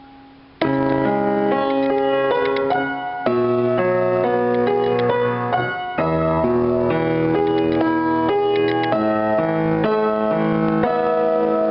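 A guitar picks each note three times in a steady repeated rhythm through a chord progression, bright and close with no voices.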